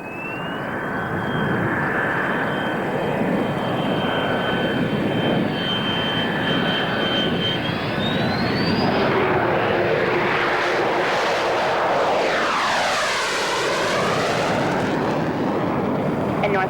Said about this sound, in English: The first F-16 is rolling at this time.